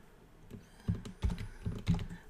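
A computer keyboard is typed on for a console command, producing a handful of soft, close key clicks in an uneven rhythm over a quiet room.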